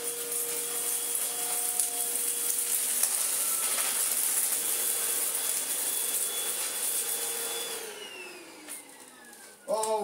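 A Tineco cordless vacuum cleaner runs steadily on a hard floor with a high whining hum, then its pitch drops near the end as it appears to clog, followed by a brief clatter.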